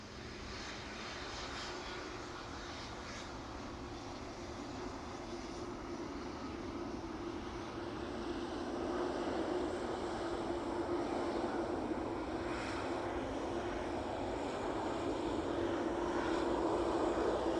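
An airplane at East Midlands Airport taxis past with a steady, broad jet-engine roar and whine that slowly builds louder as it nears, heard from a distance with no talk.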